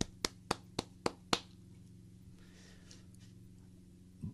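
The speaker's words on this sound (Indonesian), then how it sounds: "Yuk kita beri tepuk tangan sama-sama" Five sharp hand claps ring out in a quick, even rhythm during a church service, then the room falls nearly silent apart from a faint low hum and one soft knock near the end.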